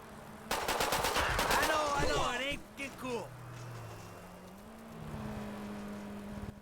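Rapid bursts of automatic gunfire rattle from weapons in a cycling video game mod, fired from a bike and followed by whirring vehicle-like tones, with a person talking over the sound.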